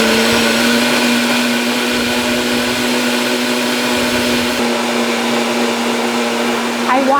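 A blender purees an asparagus sauce, running loud and close as one steady high whir for the whole stretch, with slight shifts in tone but no voices over it.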